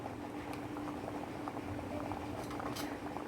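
Surmai fish curry with kokum simmers on a low gas flame, a faint steady bubbling and popping over a low hum, with no voices.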